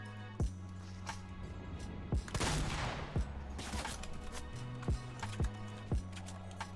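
Fortnite gunfire: a dense volley of shots followed by single sharp shots spaced about a second apart, over a steady low hum.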